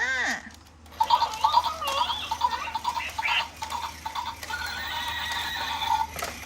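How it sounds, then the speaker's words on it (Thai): Electronic horse toy neighing in a loud whinny, followed by rhythmic clip-clop and tinny melody sounds, near and steady. "มาเลยเจ้าม้า horse มา"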